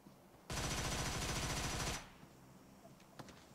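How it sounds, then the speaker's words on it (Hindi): A single rapid automatic burst of gunfire in PUBG Mobile, loud and close for about a second and a half, followed by a few faint distant shots. "ये अंजाय 41 कैसे गन चला रहे हैं"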